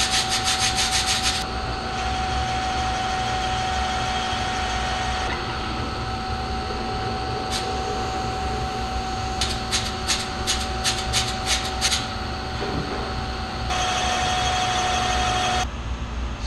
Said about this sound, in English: we use our Serdi machine primarily for forming the seats